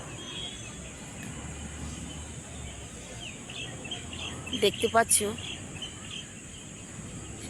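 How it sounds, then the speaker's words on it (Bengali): Mynas call at dusk in a brief cluster of sharp chirps near the middle, fairly close, over a quiet outdoor background, with a person speaking briefly. "জোড়ায় জোড়ায় শালিক, কথার মানে পাখিরা, পশু পাখিরা তাদের নির্দিষ্ট সময় কি সুন্দর উঠে যায়।"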